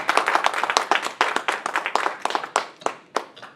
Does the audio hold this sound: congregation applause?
yes